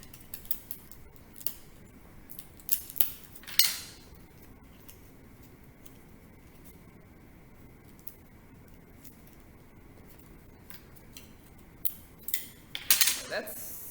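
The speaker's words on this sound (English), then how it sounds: "we'll tape it on the other side" Tape torn and pressed down while fixing a fin to the bottom of a homemade stomp rocket, heard as a few sharp rips and crinkles scattered across a mostly quiet stretch, close and fairly faint.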